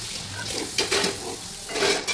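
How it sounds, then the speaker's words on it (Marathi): Soft, steady sizzling and bubbling of spinach and gram flour koftas deep-frying in hot oil, low and continuous with faint stirring swishes and no talk. "तर आपण छान असे हे तळून घेणार आहोत, फ्राय करून घेणार आहोत थोडेसे लालसर होईपर्यंत"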